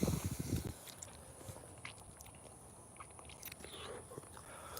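Crunchy bites and chewing on a rare fruit picked from a farm tree, a burst of crisp biting at first, then softer chewing and faint rustling outdoors.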